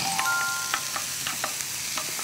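Chopped celery goes into onions stir-frying over high heat, giving a bright continuous sizzle broken by quick scraping stirs, close and steady, with no talk.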